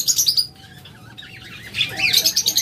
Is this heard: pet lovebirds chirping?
yes